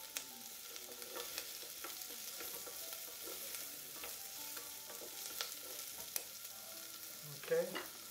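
Onions frying in a pan for tomato sauce, a soft continuous sizzle with occasional crackles and light stirring clicks, fairly faint and steady throughout.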